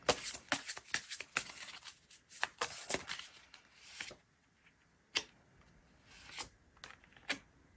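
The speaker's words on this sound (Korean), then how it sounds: "카드 섞어보겠습니다." A tarot deck is shuffled by hand in a run of sharp, crisp card slaps and riffles, dense at first, then spaced out into separate snaps, fairly close and quiet.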